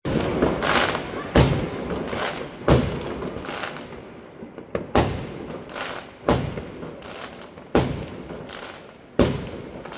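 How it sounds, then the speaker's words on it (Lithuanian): New Year fireworks explode over Vilnius at night: a string of sharp, loud bangs about every second or so, over a constant crackling, rumbling bed of more distant bursts. "šiais metais parodyti Austėjai fejerverkus, labai gražus fejerverkai buvo čia Vilniuje."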